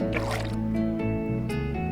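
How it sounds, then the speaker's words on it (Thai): In a fishing video game, a cast line drops into the water with one short, bright splash near the start, heard over steady tonal game music. "เนี่ยเบ็ดเราน่าจะยังเวี่ยงได้เล็กน้อยนะครับได้แค่นี้ จ๋อม"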